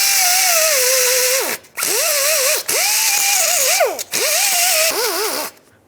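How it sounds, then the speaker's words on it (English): Sanding disc on a power tool cleaning rust off the edges of a front brake hub on a 2003-2009 Toyota 4Runner: loud whining grinds in four bursts, the pitch dipping under load and separated by short pauses. "for the edges right here, I'm actually going to use this sanding disc just a little bit"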